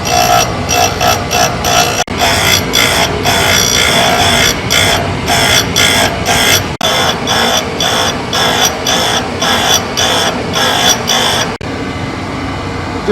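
A brazed carbide threading tool ground on a grinding wheel makes a loud, steady abrasive whine that runs almost continuously, cut by a few brief pauses, then eases toward the end.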